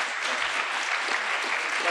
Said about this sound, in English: I'll let you all applaud that